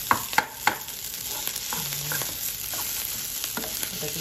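Food sizzles steadily in a pan, seasoned with pepper, while a spoon stirs it with a few sharp scrapes and clicks near the start.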